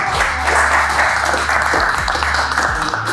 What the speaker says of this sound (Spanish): yo quiero darles un fuerte aplauso para todos